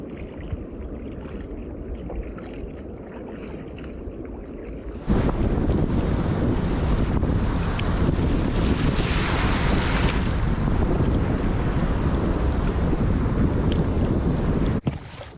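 Wind buffets the microphone and waves wash steadily on a large open lake during a kayak trip, a rough continuous roar that turns louder and fuller after a few seconds.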